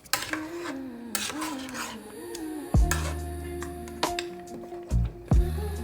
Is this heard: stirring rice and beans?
yes